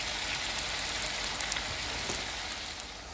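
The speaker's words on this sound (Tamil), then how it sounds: "இப்போ ஆனியன் நல்லா வதங்கிட்டு இப்போ இதில் வந்து சாப் பண்ண டொமேட்டோஸ் ஆட் பண்ணிக்கலாம்" Chopped tomatoes sizzling with sautéed onions in a pan for a spicy paneer biryani masala, a steady crackling fry that carries on alone without a pause.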